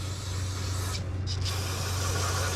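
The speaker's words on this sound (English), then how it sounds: "normally this is where you take some brake parts cleaner and kind of spray these out a little bit" A steady hiss of carb and choke cleaner sprayed from an aerosol can onto truck brake parts on a RAM 1500 3.0L EcoDiesel, one brief pause midway, close and continuous over a low hum.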